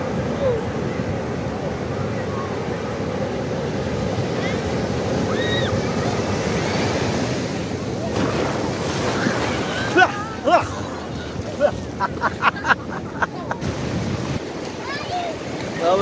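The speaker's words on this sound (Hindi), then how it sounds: "अब बहुत बड़ी वेव उठ रही है सामने" Large ocean waves break and wash up at a beach on Jeffreys Bay, a steady surf roar mixed with wind noise, with a person talking and shouting excitedly over it.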